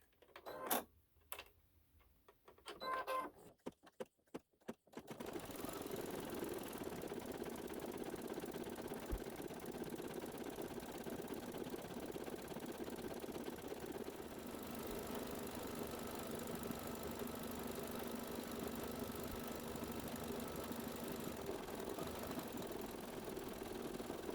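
An embroidery sewing machine stitching a satin stitch for a haunted house quilt block runs as a steady, even whir after a few seconds of start-up clicks and stops.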